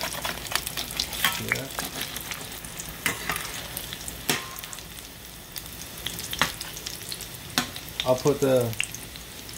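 Dungeness crab cakes fry in a hot pan with a steady sizzle and crackle, broken by occasional scraping and clatter as they are moved, while someone speaks briefly now and then.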